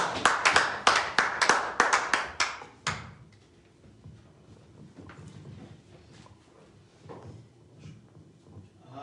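Church congregation bursts into loud, rapid applause for about three seconds, then it stops abruptly, leaving a quiet, reverberant room with faint scattered sounds.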